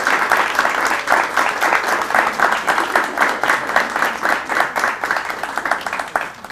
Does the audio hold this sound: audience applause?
yes